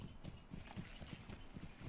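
Horse hooves clip-clopping at a steady, even gait in the Lord of the Rings Online video game, heard alone at moderate level without speech.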